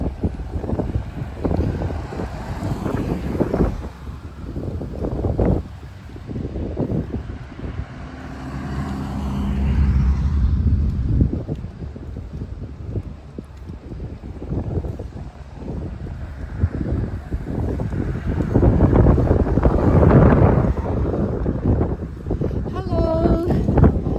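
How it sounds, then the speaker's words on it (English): Steady, gusty wind roars and buffets close to the microphone while cycling, a low rumbling rush that swells and dips, with muffled talk faintly underneath. "It's windy actually right now,"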